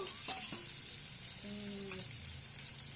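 Steady, light sizzle of something shallow-frying in a pan, a soft continuous hiss with a few faint clinks and tones over it, no talking.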